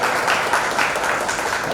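An audience at an event applauds loudly, with a dense, sustained crowd clapping that holds steady throughout.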